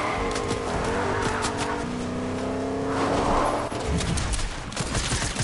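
Cars in the Fortnite video game, around Pleasant Park, roar and rev continuously with tire squeal and skidding, mixed with bursts of gunfire, loud and dense throughout.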